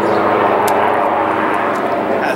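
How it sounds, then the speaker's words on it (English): A helicopter passes overhead outdoors beside a beehive, a steady loud engine and rotor drone filling the whole stretch with no talking. "As this helicopter comes by."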